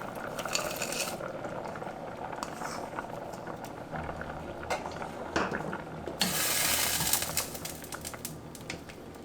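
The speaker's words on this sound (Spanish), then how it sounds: "yo agregué como media taza de verduras" Frozen mixed vegetables tipped into Mexican white rice simmering in a pot, giving a soft clatter and rattle over steady bubbling and sizzling water, with a brighter hiss swelling near the end.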